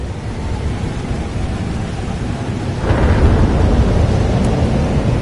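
A thunderstorm in the video game Life Is Strange Double Exposure: steady rain hiss underlies a deep thunder rumble that swells about halfway through and stays heavy to the end, with no speech.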